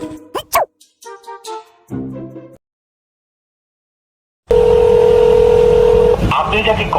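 A mobile phone is dialed to call a friend, giving a few short tonal beeps, a pause of silence, then a steady ringing tone over room noise in a comedic Bangla drama scene.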